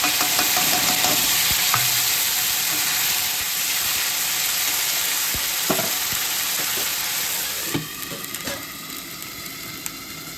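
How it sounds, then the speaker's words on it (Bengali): Tomato and ground spice paste frying in hot oil for a paneer dish, a loud steady sizzle close up with occasional stirring clicks, and the hiss easing slightly near the end. "আর দিয়ে দেবো তেলের উপরে একটু টমেটো, আর বেটে রাখা মশলাটাও দিয়ে দিচ্ছি।"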